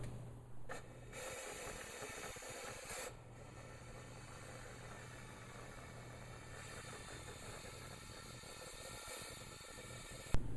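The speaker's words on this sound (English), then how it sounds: "The powder should be coming out of the gun gently, almost like smoke." A powder coating gun sprays powder in a soft, steady hiss that runs almost the whole time, with a low hum beneath it and a couple of brief gaps where the flow pauses.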